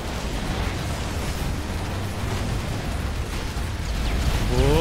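Hero mines exploding in a video game, a sustained roar of overlapping blasts and crackling bursts that swells louder toward the end.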